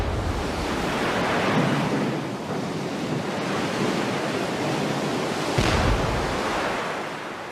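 Sea waves surge and wash in a continuous loud roar of surf mixed with wind noise, one swell cresting a little louder near the end.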